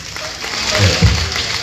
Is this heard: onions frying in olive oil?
no